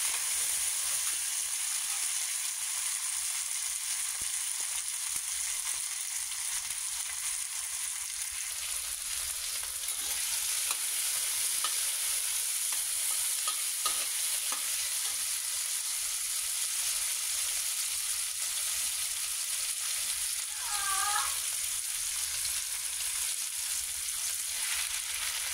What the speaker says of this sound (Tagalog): Isusunod na rin natin tong kamatis. Igisa-gisa natin.